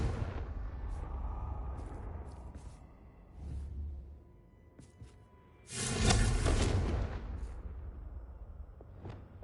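A fiery spell explosion in a wizarding video game: a sharp burst around the middle that blooms into a loud, roaring blast, with smaller magical pops and a low rumble before it, and no talk.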